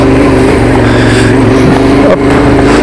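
Off-road vehicle near Mont Ventoux climbing a slope on fully inflated tyres that slip for grip, its engine droning loud and steady with revving throughout, close by, with no talking.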